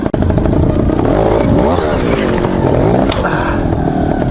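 A trials motorcycle ridden in very low gear on a K-rail, its engine buzzing and revving loud and close with rising and falling pitch, plus mechanical clatter and occasional voices underneath.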